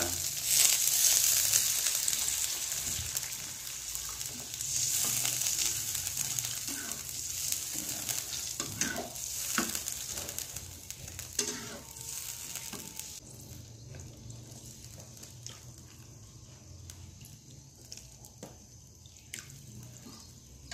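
Chicken cooking in water in a pan, stirred while it simmers down: a steady bright sizzling bubble with scattered scraping stir strokes, fairly close and fading somewhat in the second half, with no talk.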